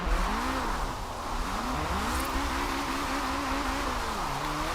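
A racing car engine in the Forza Horizon 4 video game, revving hard toward redline in rising and falling sweeps, steady and loud throughout with no talk.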